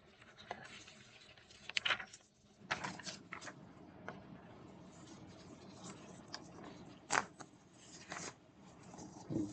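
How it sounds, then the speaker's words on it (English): Papers are shuffled and handled close by in quiet bursts of crisp rustling and light slaps, with pauses in between. "shuffling my papers, I'm getting them mixed up."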